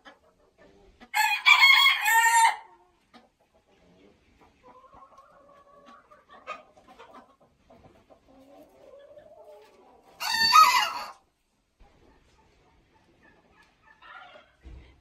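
A rooster crows twice on a farm, two loud, drawn-out calls several seconds apart, with quieter clucking and bird sounds and faint voices in between.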